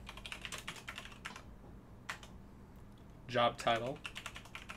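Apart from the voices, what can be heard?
typing on a computer keyboard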